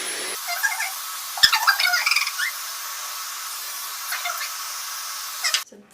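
A Dyson Supersonic hair dryer on high heat gives a steady, airy whoosh that starts abruptly, runs evenly for several seconds with faint rustling over it, then cuts off sharply.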